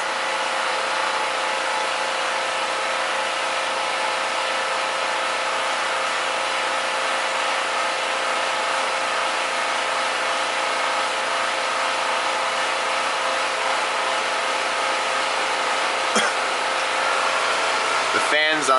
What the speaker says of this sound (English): The fans on that inverter just kicked in again.